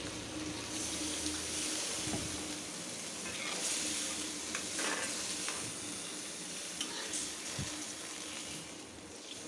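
Koi fish frying in a pan as a little water is poured in, a continuous loud sizzle and bubbling with occasional stirring scrapes, close and steady throughout.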